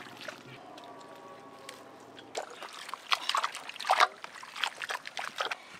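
Elephant foot yam being washed by hand in water, splashing and sloshing that grows louder and more vigorous partway through, with a low hum underneath.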